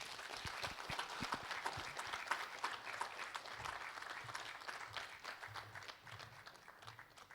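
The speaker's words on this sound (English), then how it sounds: "Give him another round of applause." An audience at a business launch event for SME loans gives a speaker sustained applause, a continuous patter of many hands clapping at moderate distance, fairly quiet and even throughout, with faint murmuring underneath.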